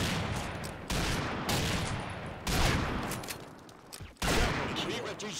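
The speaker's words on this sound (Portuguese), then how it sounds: "Nossa, quando eu atirei." Heavy gunshots from the ASW338LM Mythic sniper rifle in the video game Combat Arms, several loud booming reports a second or so apart, each followed by a long decaying tail, with a voice faintly underneath.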